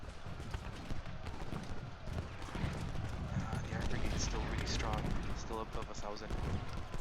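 Musket fire crackles continuously through a Civil War battle in Ultimate General Gettysburg, with scattered volleys and battle clatter layered under a steady murmur of voices and a speaking voice.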